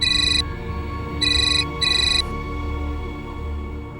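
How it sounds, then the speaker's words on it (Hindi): A phone ringtone sounds in three short electronic bursts, loud and close, with a low background hum between rings. "तन्वी का तब से फोन आ रहा है, रिसीव नहीं कर रहे हैं आपको।"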